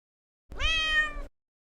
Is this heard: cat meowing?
yes